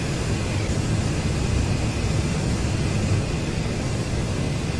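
Steady broadband roar of an AJS37 Viggen jet on the runway in DCS World, a constant loud engine and rolling noise with no breaks.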